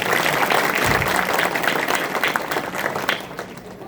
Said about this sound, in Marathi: या लेकरांसाठी जोरदार टाळ्या वाजवा.